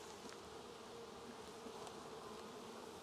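Honeybees buzz in a steady, dense drone around an open hive during a split inspection, faint but continuous with no voices.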